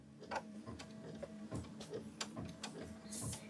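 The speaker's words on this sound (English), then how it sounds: "go ahead and stitch out the lettering" An embroidery machine stitches out lettering with soft, quick mechanical ticks and thumps, fairly faint and continuous, with no talking.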